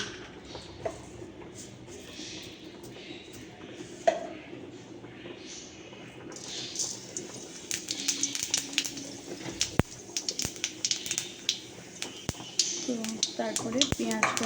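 Cumin seeds dropped into hot oil while cooking a Bengali egg dish, a crackling sizzle with rapid pops building over the second half, beneath someone talking and birds cooing nearby.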